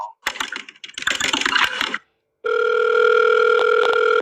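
Quick plastic button presses tap out a number, then a steady telephone tone drones for a couple of seconds.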